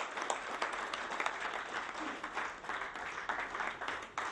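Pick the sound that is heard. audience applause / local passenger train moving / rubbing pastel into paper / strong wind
audience applause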